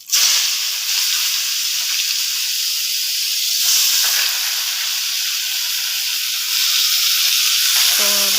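Ash gourd hitting hot oil with cumin seeds, bay leaf and dried chilli, a loud steady hiss and sizzle that swells slightly in places, with a voice briefly speaking at the very end.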